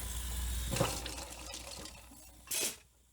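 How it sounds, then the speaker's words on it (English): Water runs from a tap into a sink with splashing as rings are rinsed after rhodium plating, ending in a short louder gush. "rinse them underneath the sink water"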